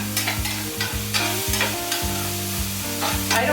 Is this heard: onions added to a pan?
yes